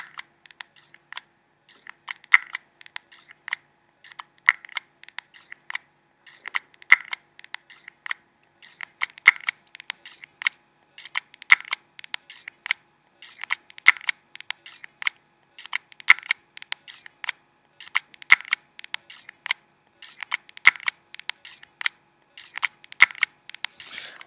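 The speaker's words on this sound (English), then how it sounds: "that is the sound of the hard drive trying to spin" A failing iPod Classic hard drive clicking as it tries to spin up, a steady series of sharp, dry ticks in quick irregular clusters, close and fairly loud over near silence, repeating throughout.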